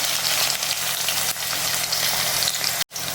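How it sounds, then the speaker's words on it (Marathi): Mustard seeds and garlic sizzle steadily in hot oil, a dense, close crackling hiss that holds constant throughout and breaks off for a moment near the end. "तेल छान गरम झाल्यावर त्याच्यात मोहरी टाकायची आणि ही मोहरी पण थोडी जास्त टाकायची आहे"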